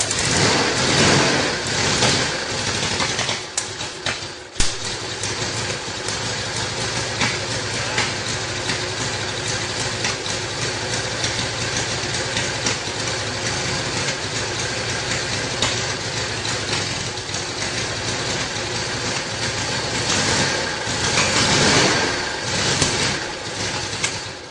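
The engine of a rare 1919 Indian motorcycle runs continuously, a loud, dense and rough mechanical roar that holds steady throughout, close by and without talk.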